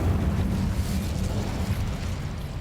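Incendio fire spell cast in a video game, a dense low whooshing roar of flame that stays loud and steady throughout without distinct bursts.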